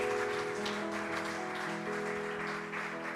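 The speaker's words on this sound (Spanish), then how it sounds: "Un aplauso a Dios por ellos." A church congregation applauds in a steady wash of clapping, with sustained musical tones running beneath it throughout.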